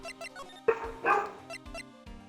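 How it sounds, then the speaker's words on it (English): A dog barking in the Phoenix Wright: Ace Attorney video game, two short yelping barks over soft game music with blippy tones. "I heard that damn dog yelling."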